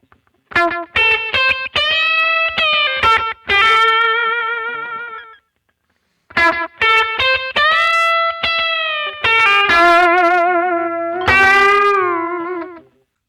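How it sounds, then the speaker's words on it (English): An overdriven Telecaster electric guitar with delay and reverb, treble turned fully up and played with a heavy pick, plays bright lead phrases with bent notes and vibrato, sustained notes trailing into echoes, alone with a brief pause midway. "It's a Telecaster played with a heavy pick, treble turned all the way up, add some overdrive"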